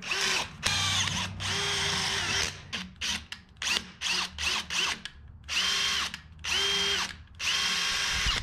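A power drill bores into metal on a 1977 Datsun truck, running in repeated loud, close bursts of whining motor separated by short pauses.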